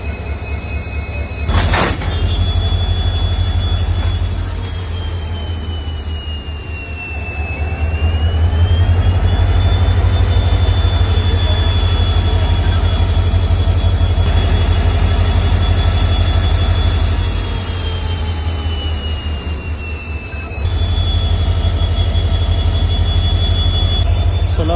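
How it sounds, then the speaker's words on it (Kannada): A WDP 4B diesel locomotive moves for coupling at Yeshwantpur Junction station. Its heavy engine rumble holds steady and close for the whole stretch, swelling and easing at times under a sustained high whine, with a sharp clank near the start. "WDP 4B ಕೃಷ್ಣರಾಜಪುರಂ ಲೋಕೋ ಸೈಡಿಂದ ಡಿಸೈಲ್ ಲೋಕೋಮೋಟಿವ್ ಇದೆ."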